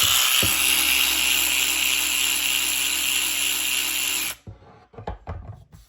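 A Mac 12V cordless ratchet runs with a loud, harsh whine for about four seconds, then stops and leaves brief clicks and handling knocks.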